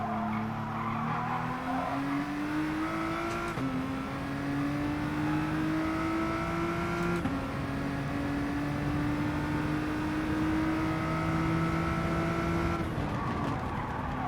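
A BTCC touring race car in the GT Sport video game, its engine droning steadily as the revs climb through long gear pulls with abrupt shift breaks, and faint tire squeal underneath, with no talking.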